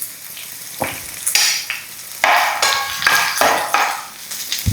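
Ginger fries in a pan for fish curry, sizzling bursts rising as a spoon stirs and scrapes it in a few uneven strokes, close and fairly loud.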